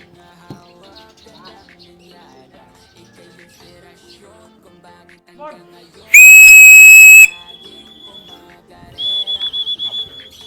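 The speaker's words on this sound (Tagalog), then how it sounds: "Yun, tumunog na ang doorbell." An electronic doorbell-style chime at a pigeon loft marks a racing pigeon's arrival: a loud, steady two-second tone, then a softer sustained tone and a rapid warbling burst, over faint background talk and bird sounds.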